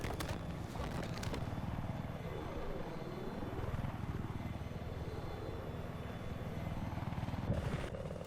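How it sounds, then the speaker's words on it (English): Helicopters in a Battlefield 4 video game match give a continuous rotor drone with rising and falling engine pitch as they maneuver. There are a few sharp bursts at the start and end, and no speech. "Actually, the choppers are going to go at it again"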